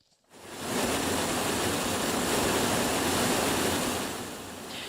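Floodwater from an atmospheric river surges down a residential street in Studio City, a steady loud rushing roar that starts abruptly and holds constant throughout, with no voices.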